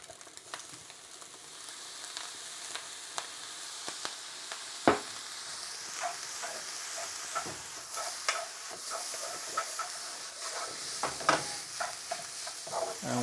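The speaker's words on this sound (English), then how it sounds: "And we keep stirring it, keep moving it." Egg fried rice with soy sauce stir-fried over high heat, a continuous sizzle broken by repeated scraping and tossing strokes of a spatula, close and steady, with no voices.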